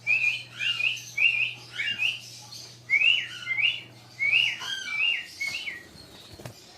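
A pet cockatiel whistles and chirps in a run of bright, rising and falling calls, repeated phrases close by, with a low steady hum underneath for most of it.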